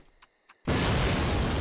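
Sudden loud blast in the Call of Duty video game on an airfield map, cutting in after a few faint clicks and sustaining a dense, roaring rumble to the end.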